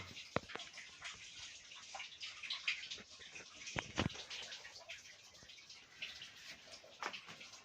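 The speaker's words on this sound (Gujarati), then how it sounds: "જે બાજુ પાણીનો અવાજ આવે એ સાઈડ જઈએ" Faint trickling and dripping water inside an old cave, soft splashes and occasional sharper drops echoing irregularly against quiet low background.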